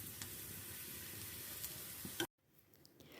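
Crispy potato kebabs fry in a pan on normal heat with a steady, close sizzle and a few light clicks, then the sound cuts abruptly to a much quieter background.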